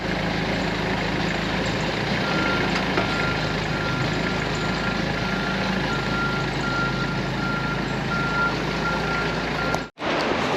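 John Deere 455G crawler loader backing up with its reverse alarm beeping steadily over a loud, continuous diesel engine rumble, close by, ending in a brief cut near the close.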